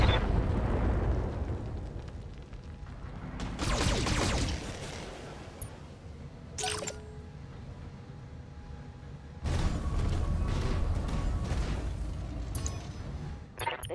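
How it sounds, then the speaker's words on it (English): BattleTech mechs fire weapons and trigger explosions in bursts: heavy booms and rumbling blasts come in clusters with sharp crackling shots between them and quieter rumbling gaps. "Firing on multiple enemies"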